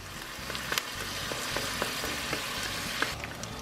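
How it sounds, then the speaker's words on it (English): White parts of spring onion frying in a wok, a dense, steady sizzle running throughout with occasional sharp ticks and pops of spatula contact. "just the white part of the spring onion that we're gonna fry up next"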